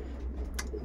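Racing pigeons coo softly in a loft, low murmuring calls running continuously through the brief moment over a steady low hum.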